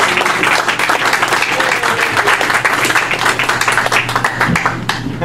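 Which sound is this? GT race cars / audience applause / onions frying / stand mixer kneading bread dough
audience applause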